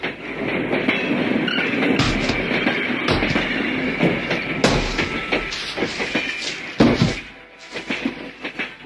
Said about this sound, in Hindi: आज गाड़ी समय पर आई है।